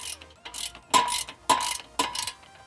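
A ratchet tightens 13 mm bolts on a Borla exhaust fitted to a Ford F-150 Tremor, giving short bursts of quick close clicking, three main runs with brief pauses between.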